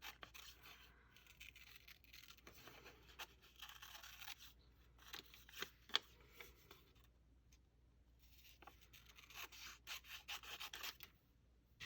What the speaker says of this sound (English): We're going to slightly fussy cut it.